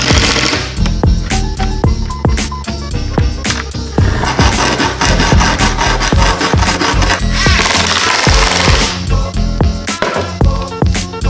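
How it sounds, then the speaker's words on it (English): Hinges being fastened to a circular saw guide in a workshop, giving a loud, continuous run of scraping, rubbing and knocking with frequent sharp clicks throughout, close to the listener and with no talk. "So let's attach the hinges right now."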